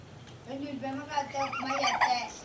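A rooster makes a warbling, gobbling call nearby while people talk.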